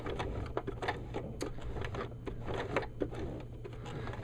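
A sewing machine turned by hand stitches through Velcro at a steady pace, giving soft rhythmic ticking and clattering at close range.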